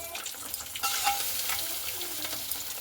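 Pieces of fried egg are stirred gently through a simmering gravy in a pan, giving a soft bubbling sizzle with light scraping and stirring sounds.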